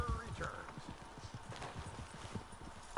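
Horse hooves clip-clop in a video game set in Rio Bravo, a steady run of soft hoofbeats under a low background murmur, ending with a brief louder sound.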